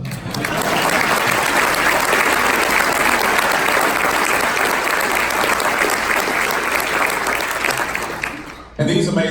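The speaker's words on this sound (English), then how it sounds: "It says I'm supposed to ask for another round of applause" A large crowd at a community education breakfast gives a sustained round of loud, dense applause, then it cuts off abruptly just before the end.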